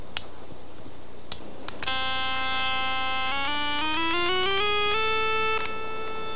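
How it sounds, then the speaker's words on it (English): A steady electronic tone from a Boss chromatic tuner in sound mode sounds while a plucked guitar string is tuned against it. The string's pitch slides upward and settles, with a few clicks at the start. "I prefer the Boss chromatic tuner because it gives me a sound mode"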